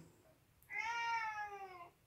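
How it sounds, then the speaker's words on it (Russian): A pet cat lets out a single long, loud meow lasting over a second, close by against a quiet indoor background. "Опять мой кот просится играть мяукает сильно"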